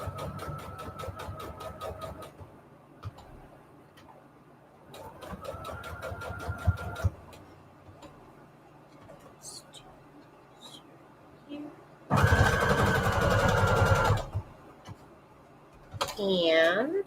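A sewing machine straight-stitches fabric scraps onto paper junk-journal tags in fast, steady bursts of a few seconds each, separated by pauses. Handling noises and a louder final burst come near the end.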